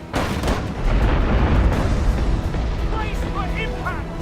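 A heavy boom from a mortar firing in the naval combat game Abandon Ship is followed by rumbling blasts and a noisy battle din, with short chirpy effects near the end.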